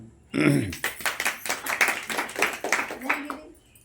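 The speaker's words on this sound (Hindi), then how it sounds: "तालियां।" A small group claps in quick, uneven bursts during an exercise session, fairly close and moderately loud, with a voice talking over the clapping.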